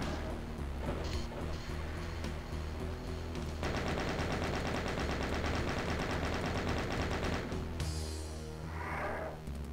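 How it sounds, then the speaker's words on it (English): A chain gun in a first-person shooter fires continuously and loudly at a rapid, steady rate for nearly ten seconds, with a hiss-like burst near the end. "I don't have a lot of rockets, that's why I'm using chain gun here"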